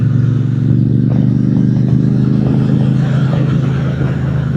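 A Triumph Speedmaster motorcycle rides along on a sunny morning, its engine a steady close rumble with slight rises and falls in throttle, heard alone with no talking.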